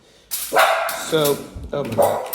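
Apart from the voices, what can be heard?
dog barking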